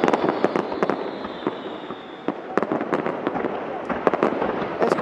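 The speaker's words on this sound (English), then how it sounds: "it's quite loud here, as you can imagine, with all of these fireworks taking place right behind me" Dense fireworks bursts at the Akkuyu nuclear power plant groundbreaking ceremony, a rapid series of sharp loud cracks and pops over a steady crowd-like roar, with a voice speaking faintly underneath.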